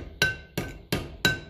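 A ball-end hammer strikes a metal punch while working on Massey Ferguson 35 brakes and half shaft seals: four sharp, ringing metallic taps in an even rhythm, close up.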